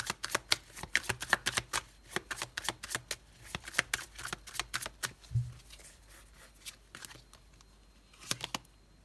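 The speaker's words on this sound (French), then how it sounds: "Allez, on va mettre une autre carte." Tarot cards are shuffled and laid down on a table in a quick run of sharp, close flicks and snaps, then a quieter pause and a few more card slaps near the end.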